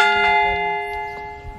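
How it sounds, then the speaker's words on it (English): A replica church bell rings with strong, steady harmonic overtones that sustain and slowly decay through the clip, sounding close and clear with no talking. "when you heard that bell ring"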